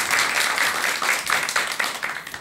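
An audience at a lecture on child-rearing claps steadily throughout, a dense, moderately loud patter of many hands with slight rhythmic swells and no speech.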